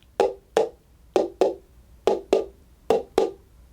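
Hollow clip-clop knocks in pairs, paper cups imitating donkey hooves trotting, eight taps in an even rhythm, close and fairly loud with quiet gaps between.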